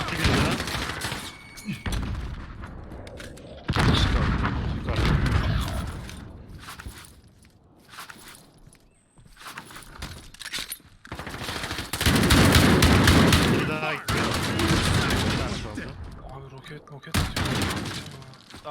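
Rapid bursts of automatic and single gunshots from a Call of Duty Modern Warfare Warzone match ring out close and loud in clusters, with players talking over much of the firing.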